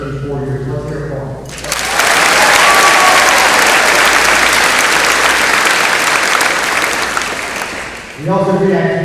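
Audience applause for a state champion high school tennis team at a graduation ceremony, a loud sustained burst of clapping and cheering from a large crowd that lasts several seconds between stretches of speech.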